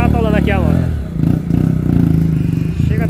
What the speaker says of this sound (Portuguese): Aí chega tá atolando aqui a moto.